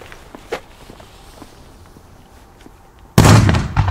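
A retro Pyrounion Kanonenschlag firecracker from Germany explodes with a single loud, sharp bang near the end, after a stretch of quiet outdoor shuffling and faint footsteps.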